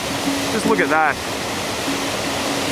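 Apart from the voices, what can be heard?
waterfall spray roaring in Patagonia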